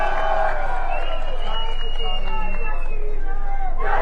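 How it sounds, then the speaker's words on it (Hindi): A crowd at a political rally in Hamirpur, Himachal Pradesh, roaring and clapping loudly in a sustained wave of hubbub and cheers, with voices mixed into the din. "अपने लिए जोरदार तालियां।"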